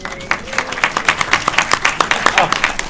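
An audience at a film Q&A for All of Us Strangers claps in a quick, dense burst of applause, close and fairly loud, with voices mixed in.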